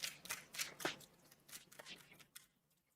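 Tarot cards are shuffled in quiet, close riffles and rustles that come in irregular bursts and then fade to silence.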